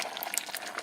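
Beaten eggs for an omelette pour into a hot pan, giving a steady soft sizzling hiss that runs close and even throughout, with no talking.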